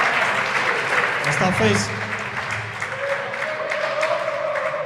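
Crowd applause after a long rally at a professional squash quarter-final in Namibia, a spread of clapping over several seconds while a voice speaks over it.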